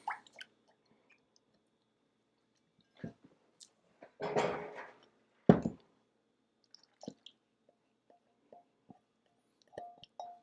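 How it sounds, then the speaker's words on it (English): Strawberry rhubarb pie crisp filling being tossed together in a bowl: soft wet squishes and plops, with a couple of louder mixing bursts and scattered small knocks in a quiet kitchen. "now we're going to toss all this together"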